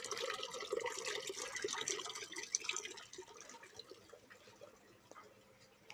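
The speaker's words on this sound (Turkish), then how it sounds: "Buradan su akıyor." Water running steadily at an outdoor eatery near the ancient city of Ephesus, a soft continuous splashing trickle with faint drips, fairly distant and quiet, easing slightly toward the end.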